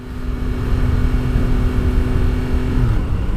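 A Yamaha MT-10 motorcycle ridden in first gear makes a loud, steady engine drone under heavy wind rush, with a constant low tone that drops away near the end.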